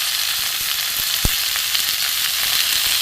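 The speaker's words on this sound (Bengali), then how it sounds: "এবার আমি একটু ভালো করে কষে নেবো।" Spices and grated ginger, along with turmeric, fry in a pan with a steady, close sizzle. One brief clink sounds partway through, and no one speaks.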